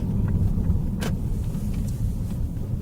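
A Zotye Z700 car rolls to a stop, its cabin filled with a steady low road and engine rumble and a brief sharp click partway through.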